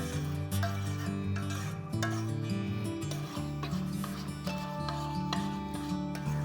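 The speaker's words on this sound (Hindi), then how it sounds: "इसे हम पैन में ही इस तरह से भूनेंगे ताकि और अच्छा सा कलर आ जाए" Dry fruits are stirred and roasted in a pan with the gas off, making a dry scraping rub that repeats under steady background music.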